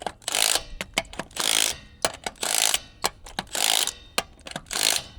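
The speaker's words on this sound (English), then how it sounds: "I'm gonna go around one more time with the impact gun just to make sure this is tight." Impact gun tightening a bolt on a Kawasaki H2 on the trail, giving loud rattling bursts about half a second long, separated by sharp ratcheting clicks, close up.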